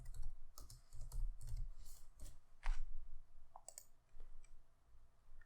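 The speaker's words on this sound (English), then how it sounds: "So just type in import Boto3." Close, crisp keystrokes on a computer keyboard come in quick irregular bursts with short pauses, typing a line of Python code for an AWS Lambda function, with no voice.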